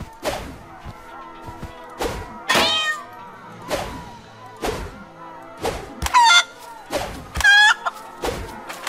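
A cartoon cat in South Park: The Stick of Truth meows repeatedly, with sharp, evenly spaced calls over about nine seconds. Some calls rise into louder, warbling cries.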